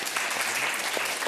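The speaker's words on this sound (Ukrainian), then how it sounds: "А чего мы аплодируем" A studio audience claps steadily for a moment on a Russian-language political talk show, a dense, moderately loud patter of many hands with no voices over it.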